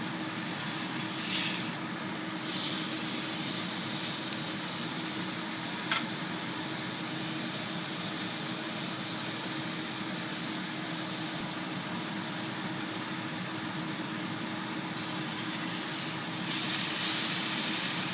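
A steak sizzles steadily in a frying pan, a constant bright hiss held close and loud throughout, with a few faint pops and small crackles rising above it.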